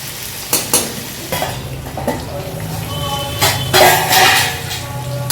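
A spoon stirs stuffed capsicum filling with turmeric as it fries in a pan, giving a steady sizzle broken by repeated scraping and clinking strokes against the metal, close and fairly loud.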